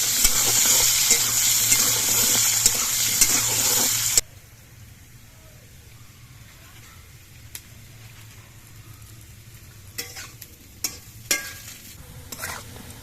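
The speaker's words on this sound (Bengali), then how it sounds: "এবার আলুগুলোকে কিছুক্ষণ ভেজে নিতে হবে" Potato pieces fry in a pan, a loud steady sizzle for the first few seconds that drops abruptly to a faint hiss, with occasional clinks and scrapes of stirring.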